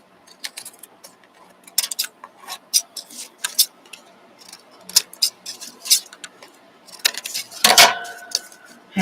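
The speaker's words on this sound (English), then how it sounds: "I'll pull my scissors out over here" Scissors snip away the excess paper around a handmade greeting card in a series of short, sharp clicks and metallic ticks at close range, broken by a louder rustling burst near the end; no voices.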